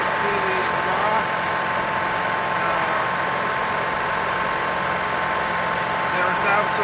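A Generac Primepact 66G RV generator engine runs at a steady idle after a tune-up, giving a constant loud drone with a broadband hiss and no break through the whole stretch.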